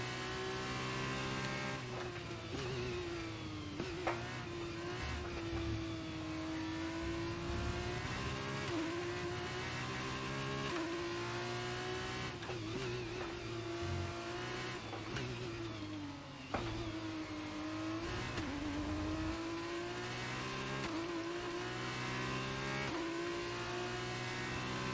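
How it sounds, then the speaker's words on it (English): Formula 2 race cars at Imola in the F1 23 racing game, engines screaming at high revs with rising and falling pitch as a rival closes from behind, continuous and loud over a steady engine drone, with no talk. "I've got another car coming flying up behind me"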